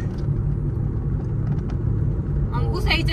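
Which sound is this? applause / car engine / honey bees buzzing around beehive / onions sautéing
car engine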